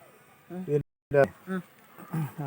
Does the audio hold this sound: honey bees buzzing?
yes